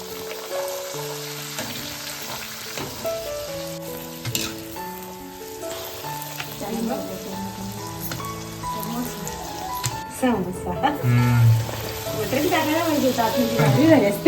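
Puris puff and sizzle in well-heated oil for an aamras-puri family meal, a steady crackling hiss running under background music that grows busier toward the end.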